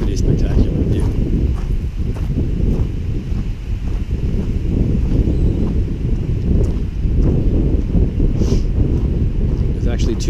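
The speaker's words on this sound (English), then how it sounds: "Real windy day" Steady, heavy wind buffets the microphone throughout on a deck by the Blowhole at Namale, Fiji, a constant low roar with gusty swells and no break.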